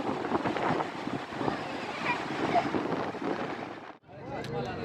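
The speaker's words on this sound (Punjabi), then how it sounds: "ਇੰਨੀ ਤੇਜ਼ ਹਵਾ ਨਾ ਇੰਨੀ ਤੇਜ਼ ਹਵਾ ਪ੍ਰੈਸ਼ਰ ਹਵਾ ਦਾ ਦੇਖਿਆ ਨਹੀਂ ਜਾਂਦਾ" Strong wind blowing hard over the water at a dam, a loud continuous roar buffeting the microphone that drops off briefly near the end before gusting again.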